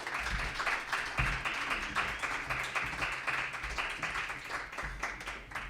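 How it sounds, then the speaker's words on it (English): Warm audience applause at an artist talk, sustained dense clapping at moderate level throughout with individual claps audible in the mix. "please a warm round of applause for Maurice, please"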